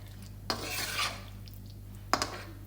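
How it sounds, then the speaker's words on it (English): Chicken curry with frozen peas is stirred in a pan, giving two distinct utensil scrapes against the metal, each followed by a soft wet swish, close but quiet, with a faint steady hum underneath and no voices. "add in 2 tablespoons frozen peas and mix everything together"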